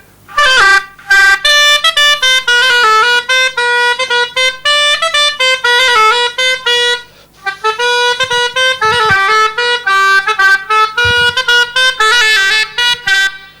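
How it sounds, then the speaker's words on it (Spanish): A traditional trompa carved from juniper wood taken from an old corral beam is blown in long, loud, buzzing blasts with brief breaths between them, the harsh tone dominating a rural Aragonese setting. "Esta trompa es de chinebro sacada de una viga de un corral de mi suegro."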